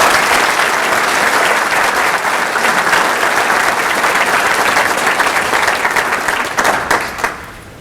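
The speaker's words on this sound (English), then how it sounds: "please join me in a round of applause as we welcome him to the podium" A lecture audience gives loud, sustained applause to welcome a speaker on the Dust Bowl to the podium. The full clapping holds for about seven seconds, then thins out and fades away.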